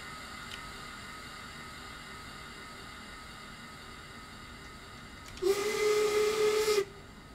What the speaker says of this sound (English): Oh, listen to that brake release sound.